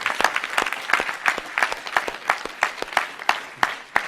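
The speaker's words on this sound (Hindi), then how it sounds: "आनंद के लिए तो जोरदार ताली बजावे।" A crowd at an evening gathering claps loudly in a regular, rhythmic beat, sharp hand claps evenly spaced for about four seconds with no talk.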